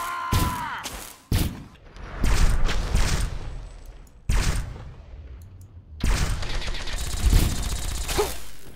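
Gunfire in Fallout 3 aimed at the player: several sharp bursts and rapid volleys of shots, loud and close, broken by brief pauses, with no talking.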